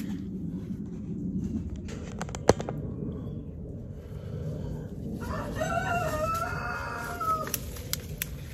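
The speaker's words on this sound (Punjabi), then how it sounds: "ਕੁੱਕੜ ਵੀ ਬਾਂਗਾਂ ਦੇਣਾ ਲੱਗੇ ਆ ਨਾਲ ਉਹ ਵੀ ਸੁਣੀ ਆ" A rooster crows at a middle distance outdoors, one drawn-out call rising over steady background hiss, with a sharp knock just before it.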